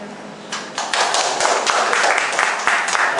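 An audience at a self-introduction event in Kaohsiung applauding to welcome a speaker, dense clapping that swells after a quiet start and stays loud and steady.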